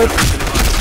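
Rapid gunfire bursts in the video game Black Squad, loud and close, a dense fusillade of shots over a short stretch with no voice over it.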